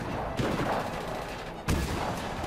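Enemy gunfire in the video game Just Cause 3: dense, close bursts of rapid shots crackle and pop for a couple of seconds, with a louder burst landing near the end.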